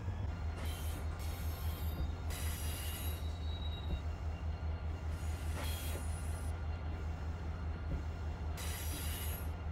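Simulated freight train rolling on rails in Run8 Train Simulator, with a steady low engine rumble beneath recurring high wheel squeals and light clatter, continuous and close throughout.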